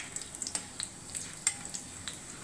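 Cumin seeds and a torn bay leaf crackling in hot oil for a tempering: faint, close sizzle with scattered small pops and spits throughout.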